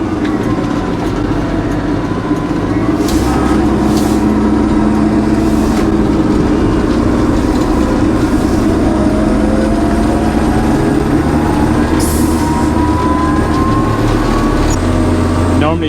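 A farm tractor drives along a road with a constant loud engine drone and rumble heard from on board, unbroken for about sixteen seconds, with a few brief higher clanks and rattles.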